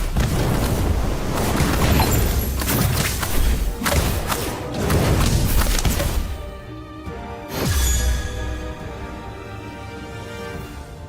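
The Incendio fire spell cast in the Harry Potter Magic Awakened video game, heavy booming thuds and fiery bursts in quick succession, loud and dense, then a final whooshing blast fading out.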